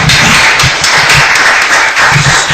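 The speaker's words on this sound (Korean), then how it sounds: "크게 박수로 격려합시다" An audience at a Reformed Presbyterian church forum claps loudly and steadily for a few seconds, a close, full roar of hands with some stronger individual claps thumping through.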